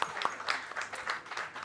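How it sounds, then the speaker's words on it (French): A conference audience at a pitch competition event applauds steadily, a dense wash of clapping with no one speaking. "Donc je vous demande de tous les applaudir parce qu'ils l'ont fait, eux."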